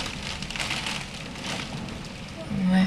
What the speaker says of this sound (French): J'espère que ça va pas trop le déranger le bruit de la pluie qui cogne.